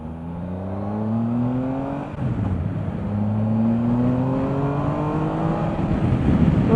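A 2018 Triumph Tiger 1200 XRx motorcycle accelerates hard, its engine note rising through the gears in long climbing sweeps with a brief dip at a shift, loud and close throughout with no talking.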